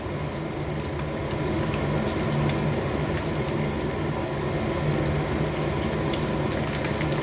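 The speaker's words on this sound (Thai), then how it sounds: "เดี๋ยวรอให้สุกก่อน ทอดให้สุกก่อนนะคะ" Chicken wings frying in a pan, a steady loud sizzle and bubbling hiss that runs unbroken and close throughout, with no voices over it.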